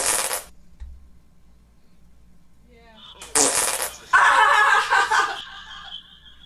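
A fart sound effect triggered by a stream donation blurts out in a couple of loud bursts, followed by snickering and chuckling laughter.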